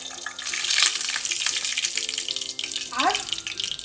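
A bay leaf and a cinnamon stick sizzle in hot oil in a pan while malai kofta curry is being cooked: a close, steady hiss of frying that swells and dips, with a brief clatter and a faint voice near the end.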